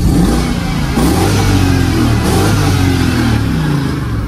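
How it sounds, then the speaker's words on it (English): A BMW X5 V8 engine revs hard and loud up close, tuned and throaty, with repeated rises and falls in pitch over a continuous roar and no talking. "But I'ma rev it for you right now."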